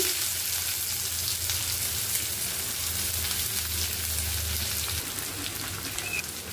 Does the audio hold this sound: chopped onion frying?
yes